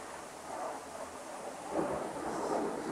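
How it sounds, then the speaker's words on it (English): Thunder rumbles through a storm, a low, soft, rolling rumble that swells and recedes twice over steady rain hiss, distant and with no voices. "I hear the thunder, though."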